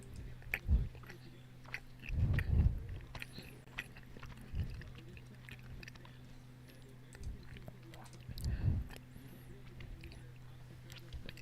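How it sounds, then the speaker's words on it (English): Someone munches on a cookie close to the mic, giving soft bursts of biting and chewing spread through a quiet stretch with a steady low hum in the background. "Munching on a cookie here really quick before the green flag."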